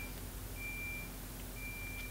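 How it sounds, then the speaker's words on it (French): Intermittent high electronic beeping from nearby construction work sounds in repeated steady tones, fairly faint over a low background rumble, with no talk. "Il y a un bip bip qui est très énervant."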